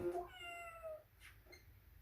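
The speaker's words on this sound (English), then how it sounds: "what was the meow for?" A single clear cat meow from the video game Phoenix Wright: Justice For All, close and fairly loud, falling in pitch before a few faint clicks.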